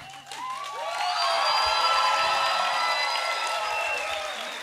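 Thin, scattered applause from a studio audience rises and holds for a few seconds, light clapping mixed with some crowd murmur and a voice underneath.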